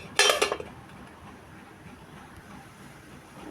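A lid goes onto a cooking pan with a sharp metallic clatter and a quick rattle lasting about half a second, followed by quiet low kitchen background.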